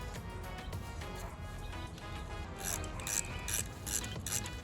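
Bolts being snugged down on the auxiliary battery of a 2018+ Jeep Wrangler JL, with a quick series of ratchet clicks in bursts near the end, close up over a steady low background hum.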